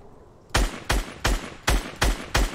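Gunfire in a shooter video game during a tournament match: six sharp, loud shots at an even, steady pace, each with a short tail, and no one talking.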